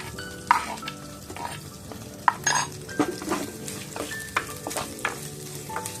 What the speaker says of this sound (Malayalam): ഇനി ചെറിയ ഉള്ളി നന്നായി വശക്കണം ഇതിലേക്ക് പച്ചമുളകും കൂടെ ഇട്ട് കൊടുക്കും